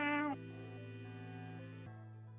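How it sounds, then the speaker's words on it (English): A cat meows once, loud and close, at a door, shut outside and wanting to be let in, then a steady tonal hum carries on quietly under it. "It's my cat at the door, wanting in."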